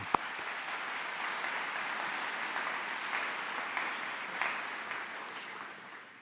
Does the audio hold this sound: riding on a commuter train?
no